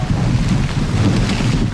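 During a typhoon in Hong Kong, driving rain and strong gusting wind make a dense, continuous roar that batters the microphone, loud and unbroken throughout.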